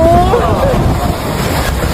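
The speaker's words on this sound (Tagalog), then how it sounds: "Ang lakas ng hangin!" Strong typhoon wind roaring and buffeting close against the microphone, a steady loud rush with a brief tonal whine early on.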